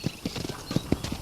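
Horse hooves clip-clop steadily in Red Dead Redemption on a ranch, a close, even rhythm of hoof strikes over a few beats with no talking.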